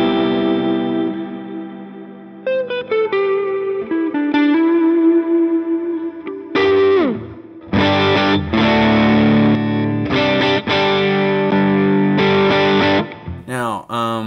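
Distorted electric guitar run through a NUX Masamune booster pedal with its high cut engaged, playing sustained chords and riffs with pauses, loud and close, with some echo and reverb.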